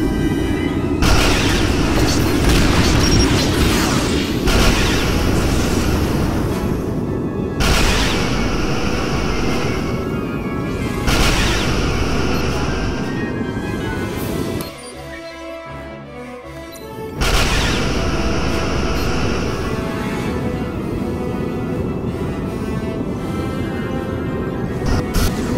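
Photon torpedo fire and explosions in Star Trek Legacy as a Romulan vessel is destroyed, a long, dense roar of heavy booming blasts with a brief lull partway through before the barrage resumes.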